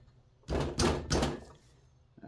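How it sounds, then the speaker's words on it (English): A chisel taps against a Suzuki SV650 flywheel held in a vise: three heavy, close knocks in quick succession, then quiet. "get a chisel and just kind of tap"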